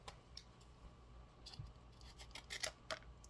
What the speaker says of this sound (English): So take your scissors,